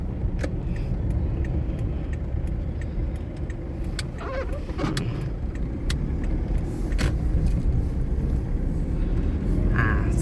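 A 2012 Toyota Hilux Vigo Champ 2.5E four-door pickup engine accelerating, a steady broadband drone and rumble that holds at an even level for about ten seconds, with faint clicks and rattles on top and no talking.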